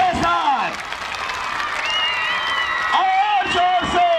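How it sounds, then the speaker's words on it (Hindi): At a school annual sports day, a crowd of children cheers and shouts with high, excited voices over scattered clapping, loud and close. "जोरदार तालियां आवाज के साथ"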